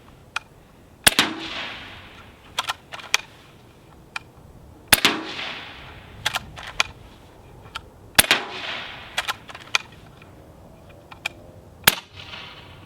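A Hatsan Gladius integrally suppressed bullpup air rifle fires pellets at a steel drum about 25 yards off: a run of sharp cracks at irregular spacing, some followed by short metallic ringing from the hits.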